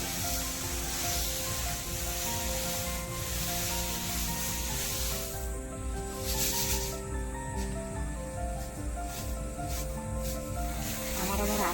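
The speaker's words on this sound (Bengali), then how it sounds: "এক চালুনে মুড়ি চালালাম" Puffed rice (muri) is shaken through a sieve in a village kitchen, giving a continuous dense rustling and rattling hiss at close range throughout, with no voices.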